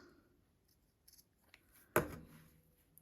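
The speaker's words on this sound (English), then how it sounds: "and then snip off the excess" Scissors snip off excess thread on a felt pumpkin ornament, a single close, crisp cut standing out after a few faint clicks in a quiet room.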